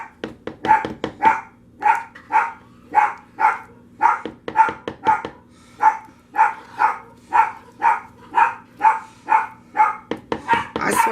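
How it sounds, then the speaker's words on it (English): A dog barks again and again in a steady rhythm, loud and nearby indoors, with a low hum behind it and no talking. "Don't mind the dog barking."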